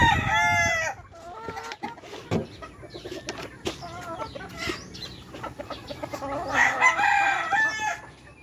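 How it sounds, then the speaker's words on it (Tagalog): Several chickens cluck and a rooster crows nearby, overlapping calls coming in bursts over a low outdoor background. "Ito ang mga manok ko guys."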